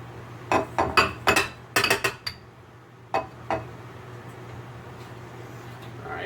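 A cup of cornmeal is added to flour in a bowl. A quick run of sharp clinks and knocks against the bowl is followed by a pause, two lighter taps, and then quiet.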